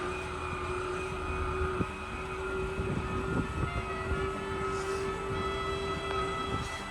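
Powered landing legs on a fifth wheel trailer retract with a steady electric motor hum and whine, joined by occasional clunks and knocks, moderately close and continuous, with no talking.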